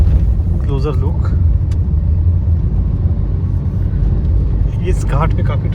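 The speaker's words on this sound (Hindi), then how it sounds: "इस घाट पे काफ़ी ट्रैफिक है." Traffic rolls along a mountain ghat road as a steady low rumble of engines throughout, loud and close, with a brief horn-like tone near the start and again near the end.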